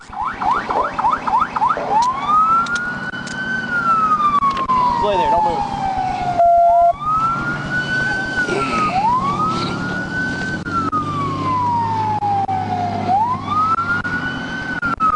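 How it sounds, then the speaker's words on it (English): An Arkansas State Police car siren wails loudly and close, rising and falling in long sweeps, with a brief yelp at the start and someone shouting briefly. "Will you turn my siren off?"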